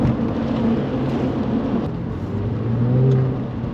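A Porsche 996 engine fitted with a Fabspeed carbon intake revs loudly and close, its deep roar swelling and easing over a few seconds with no talking.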